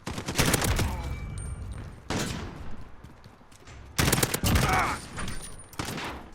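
M16 burst-fire rifle shots in Call of Duty Modern Warfare: loud, close clusters of rapid gunfire in several separate volleys, with short pauses between them and a ringing tail after each.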